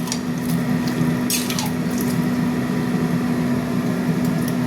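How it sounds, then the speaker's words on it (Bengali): Water runs steadily into a cooking pot of bottle gourd curry with eggs, a continuous close splashing pour with a constant low hum behind it and no talking. "আর একটু জল দিয়ে লাউটা দিয়ে দিলাম"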